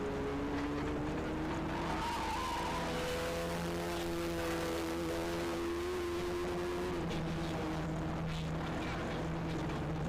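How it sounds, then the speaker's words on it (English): Several Volkswagen Polo Cup race cars roar past on the Madras International Circuit, engines screaming at high revs with pitch shifting as they pass, a dense continuous motor drone. "Cars are firing through the Madras International Circuit."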